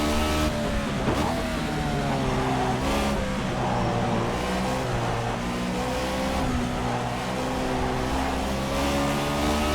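A race car engine roars steadily in a racing video game, a loud continuous whine with shifting revs as the car drives the track, with no talking over it.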